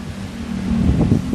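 Storm wind blowing through Vientiane on an April afternoon, a close rumbling roar with gusts swelling and buffeting against the microphone.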